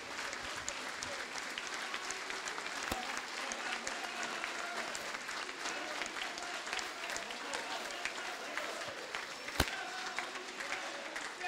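Sustained applause from delegates at a national union congress hall, a dense steady roar of many hands clapping close by, with crowd murmur underneath and a couple of sharp knocks.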